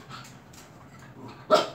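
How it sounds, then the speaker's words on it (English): A young teenage dog named Muskie gives a single short, sharp bark at the end after a stretch of quiet room noise, fairly close and alone. "Yeah, my teenage dog."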